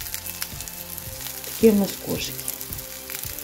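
Cake layers fry in a pan over medium heat, a steady soft sizzle running throughout beneath a voice.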